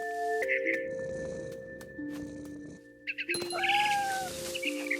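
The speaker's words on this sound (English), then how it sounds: "I was a cat." Cat in the game What Remains of Edith Finch, meowing a few times among game music and sound effects, with a sharper high cry near the end.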